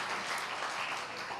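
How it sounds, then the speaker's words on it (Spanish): A congregation in church applauds with continuous, even clapping, moderately loud and unbroken across the short stretch. "Denle fuerte el aplauso a Dios"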